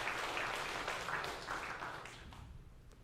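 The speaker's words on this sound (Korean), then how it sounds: "홀치기 염색을 잘 설명해 준 이 집사님께 박수 보내주세요." A church congregation at a Sunday service applauds a deacon, a dense wash of many hands clapping together that holds steady and then thins and fades out toward the end.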